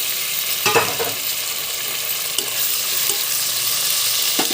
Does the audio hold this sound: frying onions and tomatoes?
yes